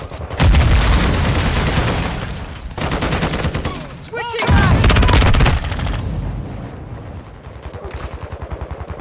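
Sustained gunfire and booming grenade blasts in a Modern Warfare 2 multiplayer match, loud and dense throughout, with a sharp sweeping burst midway and rapid automatic fire trailing off at the end.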